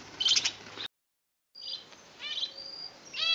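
Sabiá thrush and cockatiel singing in an aviary: short chirps and whistled phrases, a silent gap, then a run of varied calls and trills that build toward the end, moderately close.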